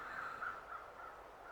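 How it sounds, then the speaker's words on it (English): Crows caw overhead in the survival video game The Long Dark, a few faint, drawn-out calls carried over a steady wind-like background hiss. "These birds flying over."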